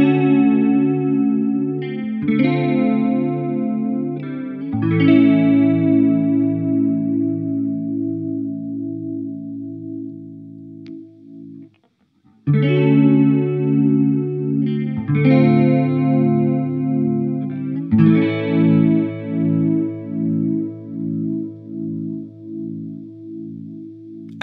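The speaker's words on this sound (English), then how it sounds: "the chorus sounds like my Boss CE2 Waza when I put it into CE1 chorus mode" Electric guitar run through a BBE Mind Bender chorus pedal, a lush, warbling chorus on chords and picked notes that repeat in two similar phrases with a short gap between them, loud and close with no voices.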